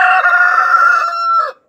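Rooster giving a single loud, close crow that holds steady before a short final rise and an abrupt cutoff.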